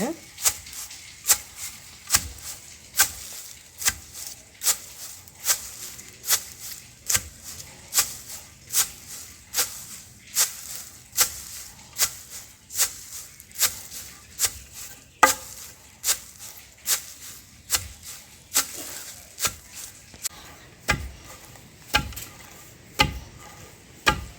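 Green gram is pounded in a stone mortar with steady, close thuds landing roughly once a second throughout, with quiet voices faintly in the background.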